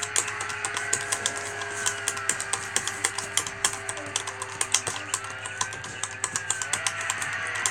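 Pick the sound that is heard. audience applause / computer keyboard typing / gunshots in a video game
computer keyboard typing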